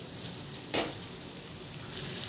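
Potato and parwal frying in a pan while being stirred, a soft steady sizzle with a brief louder scrape of a utensil against the pan near the start.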